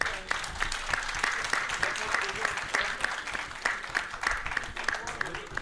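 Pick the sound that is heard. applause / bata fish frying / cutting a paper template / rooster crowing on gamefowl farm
applause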